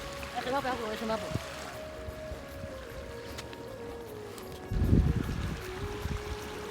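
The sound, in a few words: water poured while washing meat with spring water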